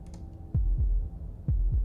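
Heartbeat in the video game Slay the Princess, two deep thumping double beats, each a lub-dub pair about a second apart, loud and close over a low hum, no talking.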